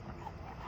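A seven-month-old Cane Corso puppy gives a short, soft whimper, close and fairly quiet over low background noise.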